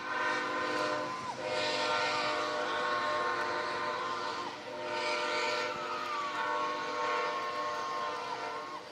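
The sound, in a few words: train passing near a baseball field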